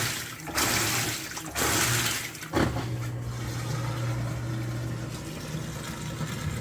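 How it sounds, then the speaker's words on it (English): An Amana NTW4519JW2 washing machine drains water, with a couple of sloshing surges and a clunk followed by a steady low pump hum and running water, close and moderately loud. "Draining water."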